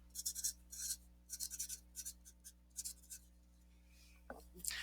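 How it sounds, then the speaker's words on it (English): A word being written by hand on a piece of cardboard: quiet, close scratchy strokes in short clustered bursts with brief pauses, and a voice speaks briefly near the end. "And I'm going to write it on both sides."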